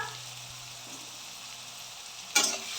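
Snake gourd dropped into hot oil with fried black cumin, a quiet even frying hiss that swells into a sudden loud sizzle near the end, close and without talk.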